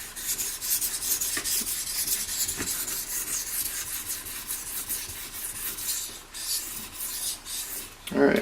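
Steady back-and-forth rasping of a ZDP-189 steel knife blade drawn across a sharpening stone, continuous close strokes without talk, ending in a slightly louder scrape.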